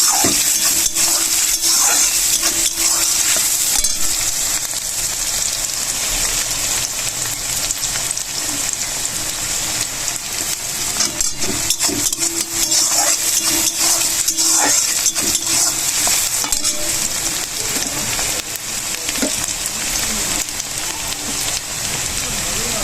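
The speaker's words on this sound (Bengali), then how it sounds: "পেঁয়াজ আর রসুনটা একটু ভালো করে ভেজে নেব।" Onion and garlic frying in a pan, a steady loud sizzle with constant crackling and spitting throughout, occasional stirring scrapes mixed in, no talking.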